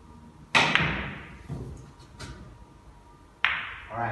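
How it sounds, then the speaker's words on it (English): On a pool table the cue ball is played thin on the 7 ball with a little spin and travels around the rails. Several sharp, hard clicks and knocks ring out separately, each fading quickly, in a quiet room without speech. "you can see there that hit the 7 ball"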